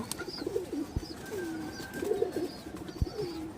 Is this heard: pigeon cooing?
yes